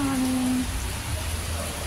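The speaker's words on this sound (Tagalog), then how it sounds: "Biglang bumuhos ang ulan." Heavy rain pours down in a dense, constant hiss, with a brief voice near the start.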